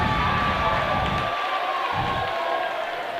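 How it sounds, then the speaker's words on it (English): A crowd of away fans cheers at a high school boys basketball game between Liberty Hill and Rouse, a steady roar of voices filling the gym from start to finish. "Big cheer"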